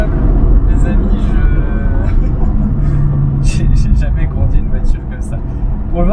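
Turbocharged BMW M4 engine accelerating with a low, steady rumble from inside the car, while people talk over it throughout.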